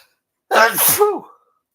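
A single sharp sneeze close to the mic, a quick breathy intake bursting into a loud explosive release, then silence.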